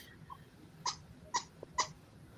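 A small dog indoors gives three short, sharp yips or barks, evenly spaced and fairly clear against a quiet room, with no talking over them.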